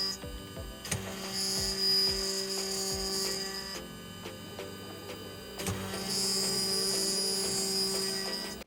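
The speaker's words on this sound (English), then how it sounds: "I decided to cut some pieces of plastic to see how they came out" Snapmaker A350 CNC router milling pieces of plastic: a steady motor whine with mechanical hum, running continuously throughout and shifting in pitch and load as the cut progresses.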